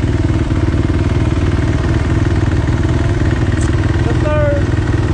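Dirt bike engines drone steadily nearby as a truck tows a minivan, a continuous loud mid-pitched engine rumble throughout, with a brief squeal near the end.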